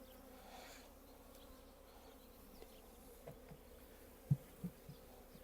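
A steady, low buzzing hum of many honeybees on a hive frame, close and continuous, with a few soft knocks near the end.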